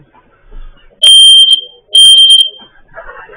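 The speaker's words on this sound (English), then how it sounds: "I put the smoke alarm up here." A ceiling-mounted smoke alarm blares two loud, piercing electronic bursts in close range, the first about half a second long and the second a bit longer with a brief stutter, with faint room noise between.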